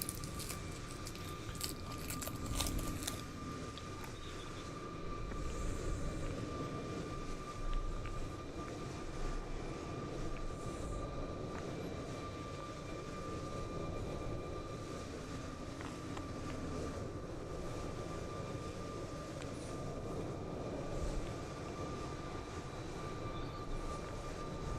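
An Airbus A380 landing at Kai Tak in Microsoft Flight Simulator 2020, a steady faint engine roar and rumble that holds for the whole stretch, with a high whining tone and a few brief clicks near the start.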